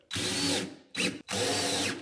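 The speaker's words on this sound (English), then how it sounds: "Using a drill here because I don't want to be impacting all of my fresh new paint." A cordless drill driving screws into a tall range hood frame: three loud, close bursts of whirring motor, the first and last long and the middle one short, separated by brief pauses.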